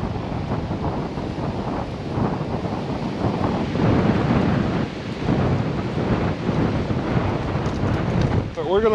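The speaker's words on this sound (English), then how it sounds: "We are here, it is starting to rain," Wind and rain buffet an outdoor battlefield at Gettysburg, a steady, loud roar of wind noise against the microphone that continues without a break.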